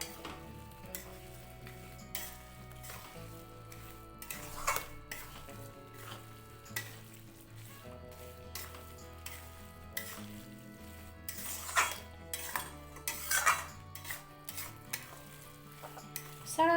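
A spoon stirs adadiya pak mixture with cashew pieces, almonds and raisins in a pan, giving intermittent scraping clinks over a soft sizzle, with louder strokes scattered through the stretch.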